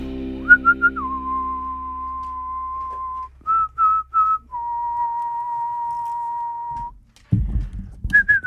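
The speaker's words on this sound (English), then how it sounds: "You guys think somebody would pay me to whistle the national anthem?" A single person whistles a steady, clear melody with long held notes and a few quick short ones, close by, followed by some soft rustling.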